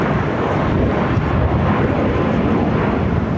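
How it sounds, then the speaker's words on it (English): An American Airlines Boeing 737-800 jet takes off at LAX, a steady, loud broadband roar of engine and wind noise holding constant throughout without any talk. "Next takeoff here on the south side is American Airlines Flight 1979 heading to Chicago O'Hare, 737-800."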